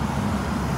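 A heavy truck rumbles past on a road, a dense, steady low roar of engine and tire noise filling the short moment.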